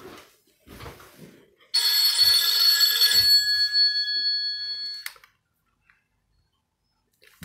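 A telephone rings with an incoming call, a loud, sustained electronic bell tone lasting about three seconds. Brief talk and faint clicks come before it, then near silence after the ringing stops.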